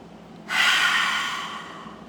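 One forceful open-mouthed exhale in a lion's breath breathing exercise, a loud airy rush that starts suddenly, then slowly fades over about a second and a half, alone and close.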